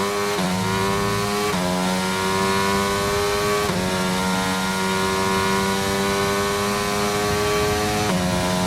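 Formula 1 race car engines in the F1 22 racing game, a loud, constant high-pitched whine that repeatedly climbs in pitch and drops sharply as gears shift, with several cars screaming together and no voices.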